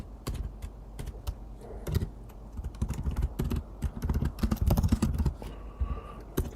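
Typing on a computer keyboard: fast, irregular bursts of close, crisp key clicks and clacks with short pauses between runs, heard alone.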